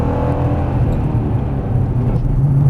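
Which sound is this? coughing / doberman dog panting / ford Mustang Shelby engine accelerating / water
ford Mustang Shelby engine accelerating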